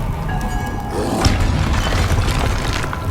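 A disarming spell cast in Hogwarts Legacy lands with a deep booming crash over a dense, rumbling magical backdrop, with a sharp impact near the middle of the short burst.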